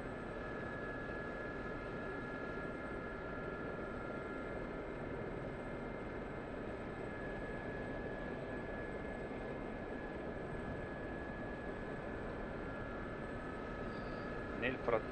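SA342 Gazelle helicopter flying in DCS World, a steady droning engine and rotor hum with a constant whine, heard from inside and unchanging throughout, with a few faint clicks near the end.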